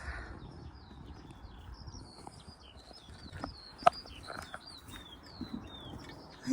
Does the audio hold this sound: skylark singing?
yes